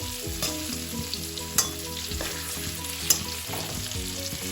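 Potatoes fry in a pan for a pressure-cooker mutton curry, with a steady loud sizzle that runs throughout and a few sharp spatters and stirring scrapes mixed in, and no voices.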